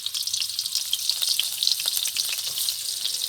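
Kohlrabi sizzling and crackling steadily in hot oil in a pan, a close, continuous frying hiss with bright pops throughout, while preparing fried chowmein.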